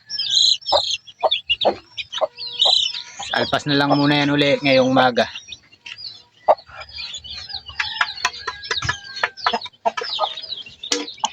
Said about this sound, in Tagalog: Ito yung inahin nila.